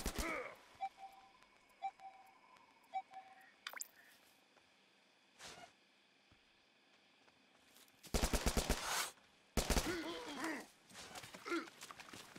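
Gunfire in The Culling video game: scattered single shots early on, then two loud dense bursts of rapid fire near the end, with game effects between them.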